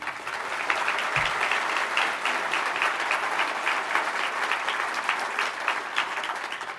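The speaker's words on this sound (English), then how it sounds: "So a round of applause for them." A crowd at a Vancouver Board of Trade address by the UBC president claps steadily, a loud even applause that holds for several seconds.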